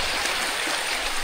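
River at Aguilar, Pangasinan, flowing with a steady, continuous rushing wash, close and fairly loud, with no other sounds standing out.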